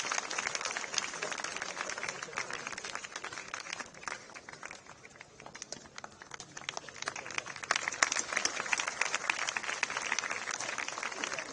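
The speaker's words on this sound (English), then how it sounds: "Huge round of applause, please." Sustained applause from a large crowd at a school prize ceremony, steady dense clapping that continues throughout, swelling slightly toward the end.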